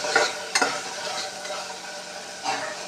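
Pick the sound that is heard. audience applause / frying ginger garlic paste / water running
frying ginger garlic paste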